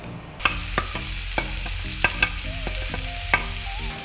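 Onion and garlic cooking in a pan after chicken, sizzling loudly and steadily up close while a spoon scrapes and taps the pan in a regular stirring rhythm.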